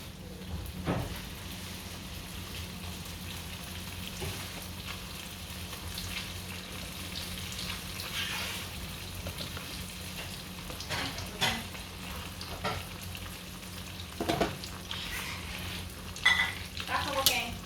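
Thai spring rolls deep-fry in hot oil with a steady, crackling sizzle throughout, broken by a few louder pops and scrapes of stirring, with no talking.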